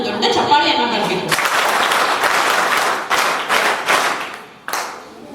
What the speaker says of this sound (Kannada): ಆ ಒಂದು ಮಾತಿಗೆ ನಮ್ಮೆಲ್ಲರಿಂದ ಒಂದು ದೊಡ್ಡ ಚಪ್ಪಾಳೆಯನ್ನ ಬರಬೇಕು